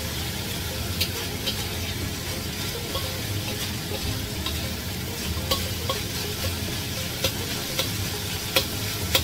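Minced pork frying in cooking oil as it turns golden brown, a steady, loud crackling sizzle with sharp pops and spatters throughout, close up and continuous.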